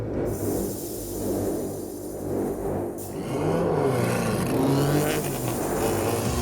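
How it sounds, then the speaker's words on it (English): Unlimited-class race cars head out onto the track for a warm-up lap, their engines droning and revving steadily close by, swelling louder in the second half. "Unlimited class cars head out to track and begin their warm-up lap"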